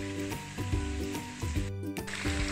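Chopped garlic sprouts and mushrooms frying in oil in a wok give a steady hiss, with repeated rhythmic scrapes and knocks of a spatula stirring through the pan, close and fairly loud, no voices.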